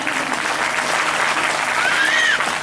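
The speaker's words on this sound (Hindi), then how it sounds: "एक बार नर्मदा जी के लिए जोरदार ताली बजाएं।" During a Bhagwat Katha religious gathering, a large audience claps loudly and steadily throughout, with a faint whistle or tone rising briefly near the end.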